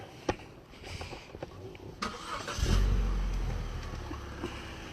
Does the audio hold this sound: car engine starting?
yes